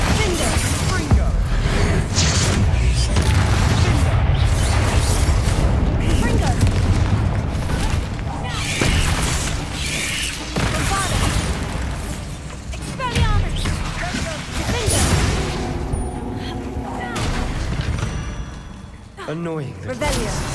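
Repeated Confringo blasts boom and rumble in Hogwarts Legacy on PS5, heavy explosions with whooshes and crashes, dense at first and then more scattered, with a voice talking throughout.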